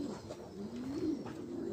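A pigeon coos softly nearby, a low rolling call rising and falling over faint background noise.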